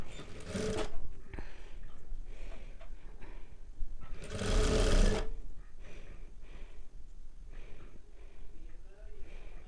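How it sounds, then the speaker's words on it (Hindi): A sewing machine stitches a folded blouse collar strip in short bursts of close, buzzing whir, one near the start and a longer run in the middle, with soft handling noises and quiet speech in between. "इसे इस तरह से फोल्ड करते हुए हमें इसकी स्टिचिंग कर लेनी है।"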